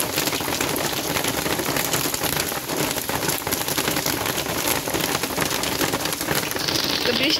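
Loud, dense rain pattering hard on a surface in a steady, crackling wash that keeps up without pause, with faint voices mixed in underneath.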